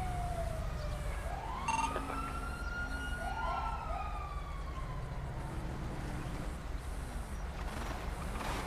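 An ambulance siren from a Fulton County, Georgia fire and EMS response wails with rising and falling tones. It sounds fairly distant, over a low rumble of traffic.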